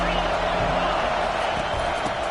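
Stadium crowd at a Texas football game roars as a dense, continuous wash of noise, loud and unbroken.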